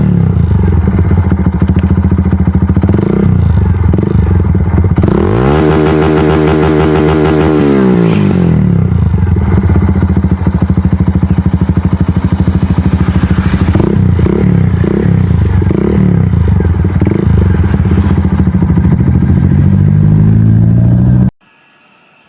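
A Barako fuel-injected motorcycle engine idles loudly close by, then is revved hard up toward its 9,500 RPM limit, rising to a sustained high-pitched wail before dropping back to a rough idle and cutting off.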